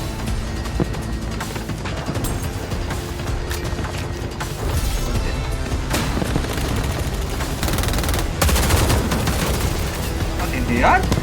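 Dense, continuous gunfire in the Call of Duty Mobile video game, loud rapid bursts layered with booms and battle noise throughout, with a voice talking faintly underneath.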